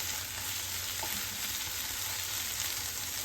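Tomato chutney with turmeric and asafoetida powder being stirred in a frying pan over low gas: a steady, close hiss of sizzling oil, continuous and even with no voices.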